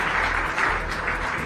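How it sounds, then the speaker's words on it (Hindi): Audience clapping at a Jharkhand government appointment-letter ceremony honouring officials, a steady, moderately loud round of applause over a low hum, with no talking. "तालियों की गड़गड़ाहट हो आप सबकी तरफ से।"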